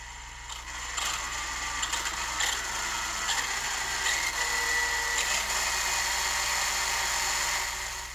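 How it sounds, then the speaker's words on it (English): Electric motor of an RC car driven by a speed controller, whining steadily at very high RPM with a bright, sustained high-pitched buzz and slight fluctuations throughout. "you can really see how quickly and easily we can ramp up to very, very high RPM"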